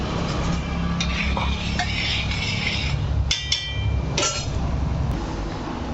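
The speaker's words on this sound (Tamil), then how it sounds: "அதுலேயே நல்லா இந்த இஞ்சி பூண்டை மிக்ஸ் பண்ணி விட்டுறேன்." Ginger garlic paste is stirred in a hot cooking pot, with a low steady sizzle beneath close, rhythmic scraping and several sharp metallic knocks of a spoon against the pot.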